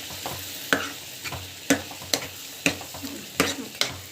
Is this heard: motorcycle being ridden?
no